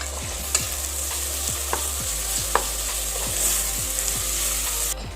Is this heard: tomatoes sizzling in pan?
yes